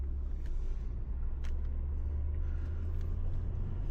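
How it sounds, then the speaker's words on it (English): Steady low engine rumble and road noise with wind buffeting, from inside a moving 1998 Nissan Skyline R34 with a window down; no talking. "I'll drive a little bit with the window down"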